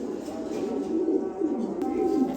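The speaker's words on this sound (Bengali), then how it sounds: "এই এক পেয়ার কবুতর দেখেন কঠিন এক পেয়ার কবুতর দেখেন" A pair of top-quality red checker racing pigeons coo in a soft, steady, low warble that runs continuously at close range, with faint background noise.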